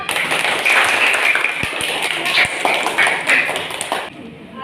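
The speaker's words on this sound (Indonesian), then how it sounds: "Kalau sudah sesuai jawabannya, kita kasih tepuk tangan buat kelompok pilot." Schoolchildren applauding a student group in a classroom, a steady patter of many small hands that runs for about four seconds and then stops abruptly.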